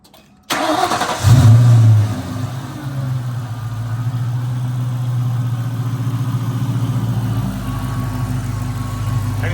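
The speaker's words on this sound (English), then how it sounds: "I'm gonna start it up." A 2003 Ford Mustang Cobra with a new JLT intake cranks and fires up nearby: a brief starter whir, a loud catch and flare of revs, then the engine settles into a steady, rumbling idle.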